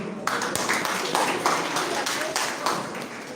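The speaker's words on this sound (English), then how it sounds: "May we give a hand of clap for him." An audience claps at a community parliament session. The rapid, steady applause lasts throughout at moderate volume.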